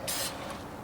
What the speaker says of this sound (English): this is the part where you can come in and spray these bolts on the hook side